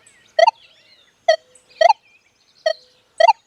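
Five short, sharp tonal beeps from a Manticore M8 metal detector set to 10 kilohertz, evenly spaced about a second apart and fairly loud, with faint background hiss between them.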